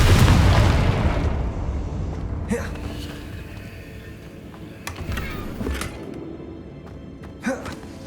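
A Confringo fire spell in Hogwarts Legacy goes off as a loud explosive burst at the start. The blast rumbles and fades, followed by scattered smaller pops and crackles.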